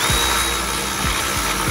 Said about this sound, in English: You know when you hear that Milwaukee wind down?